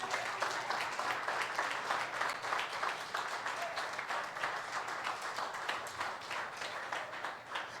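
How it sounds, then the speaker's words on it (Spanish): A church congregation applauding during a sermon, steady close clapping from many people with a pulsing rhythm, moderately quiet and sustained for several seconds. "Si vas a aplaudir, aplauda."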